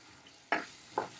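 Liver and onion sautéing in a pan: two short, close scraping stir strokes over a faint background sizzle, with no talking.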